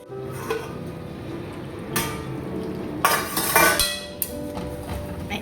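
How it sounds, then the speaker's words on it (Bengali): Meat curry is stirred and fried down in a pot, with a low continuous sizzle broken by several bright metallic clinks and scrapes of a utensil against the pot, close and moderately loud, no speech. "দেখো মাংস রান্না করছি এদিকে আমার কষানো প্রায় হয়ে গেছে"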